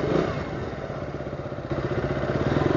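A KTM 200cc motorcycle engine runs close by on a road test in Baguio City, giving a loud, steady, rapidly pulsing putter that swells slightly in its latter part.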